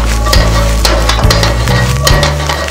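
Brussels sprouts dropped into a hot pan with a little garlic, sizzling and frying loudly and steadily up close, broken by a few stirring scrapes, with no talk.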